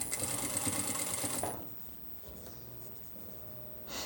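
A sewing machine runs in a fast, loud burst of stitching as tape is sewn onto a T-shirt collar along the overlock seam, then stops for quieter handling sounds and a brief final whir.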